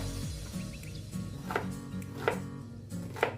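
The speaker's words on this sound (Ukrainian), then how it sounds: "Кабачки нарізаємо на квадратики." A knife chops peeled zucchini into cubes on a cutting board, three or four distinct, close, crisp knocks at regular intervals over a quiet background.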